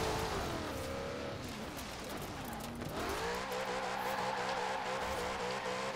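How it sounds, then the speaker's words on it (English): A 2015 Lexus RC F in Forza Horizon 4 spins its tires in a burnout, with loud sustained engine drone and tire noise that dips, then rises and holds steady through the end. "Coming out with a little bit of a burnout,"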